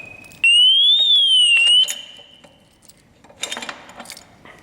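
A loud electronic alarm on a motorcycle wheel lock shrills in a rising and falling tone for over a second, followed by metallic clinking and rattling nearby.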